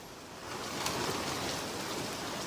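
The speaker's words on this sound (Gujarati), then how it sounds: "અનેક વિસ્તારોમાં અત્યારે પણ વરસાદી વાતાવરણ જોવા મળી રહ્યું છે" Heavy rain falls in Mumbai amid gusty winds, a steady, dense hiss of downpour striking surfaces that swells in over the first half second and then holds evenly throughout.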